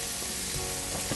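Duck searing in a hot pan gives a loud, continuous sizzle with faint stirring and scraping, heard close up and alone for about a second.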